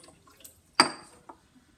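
A single water drop falls from an overflowing Eureka can, one crisp close splash that rings off briefly, followed by a much fainter drip in an otherwise quiet room.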